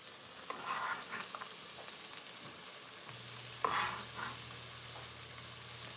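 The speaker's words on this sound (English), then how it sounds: "Let it saute for a minute" Chopped celery sautés in a pot as the base for beef and barley soup, giving a steady, soft, close sizzle with occasional stirring scrapes and no talking.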